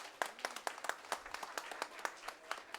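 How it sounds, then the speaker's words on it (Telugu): An audience at a college volunteers' event applauds faintly from a distance, with rapid, fairly even claps that keep a steady rhythm throughout. "ఒక్కసారి క్లాప్స్ ఎవిడెంట్కి"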